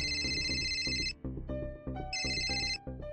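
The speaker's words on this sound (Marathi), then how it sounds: "शनायाचा तर फोन नसेल ना." A phone rings in a Marathi TV serial scene, an electronic ringtone playing a repeating melodic pattern with bright high-pitched bursts that return after a short gap, close and clear with no talking.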